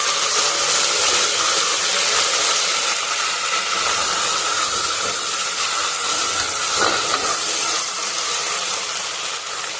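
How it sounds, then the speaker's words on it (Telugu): Ginger garlic paste fries in a cooker pot for chicken biryani, producing a loud, continuous hiss and sizzle that holds steady throughout, with no one talking. "అల్లం వెల్లుల్లి పేస్ట్ వేసుకొని ఇది పచ్చి వాసన వెళ్ళేంతసేపు ఫ్రై చేయాలి."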